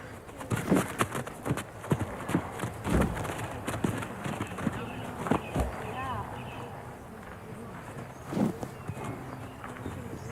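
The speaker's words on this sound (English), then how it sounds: "The horse is running around, turning towards him, rearing" Irregular hoof thuds and scuffling from a stallion running around and rearing nearby, with a few heavy impacts, mixed with outdoor background noise.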